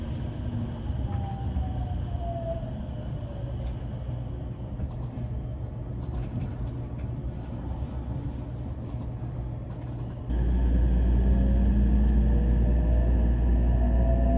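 Osaka commuter limited express Rakuraku Yamato pulling out of the underground platform at Osaka station: steady low rumble of the train in motion with rising motor whine, growing louder and heavier midway as it gathers speed.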